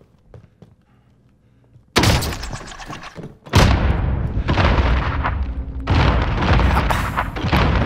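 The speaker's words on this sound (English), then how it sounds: "That was like 5 explosions." Explosions in the Warzone video game: after a quiet start, loud booming blasts hit in quick succession, one big burst at about two seconds and further heavy explosions rumbling on close.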